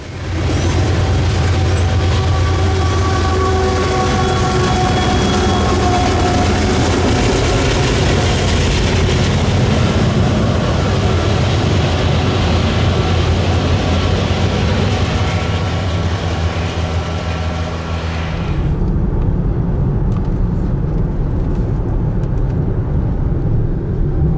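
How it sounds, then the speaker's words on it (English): A BNSF coal train of loaded hopper cars rolls past in Montana with a loud, steady rumble and wheel-on-rail clatter for most of the stretch, then cuts off abruptly, leaving a low residual hum. "decided to chase the BNSF coal buckets back west"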